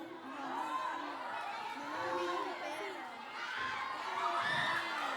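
Studio audience at a Filipino game show shouting and cheering together, a dense loud crowd roar with excited children's voices rising and falling throughout.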